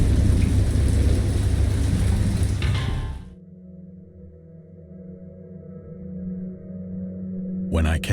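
Loud, steady downpour of heavy rain in the Dagon video game, which drops away after about three seconds to a low rumble of distant thunder. A brief burst of noise returns at the end.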